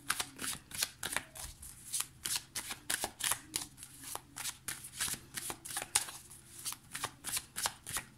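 Tarot cards being shuffled by hand in a quiet room, a steady run of crisp riffling snaps and soft slaps repeating rhythmically, close and clear with no talk.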